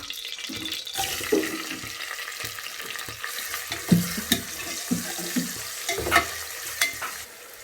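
A large lengthwise-sliced onion fries in hot oil for mutton curry, a close crackling sizzle punctuated by repeated spoon scrapes and clinks at an uneven stirring rhythm, with no talk.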